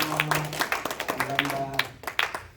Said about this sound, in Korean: 박수 한번 주시고 감사합니다.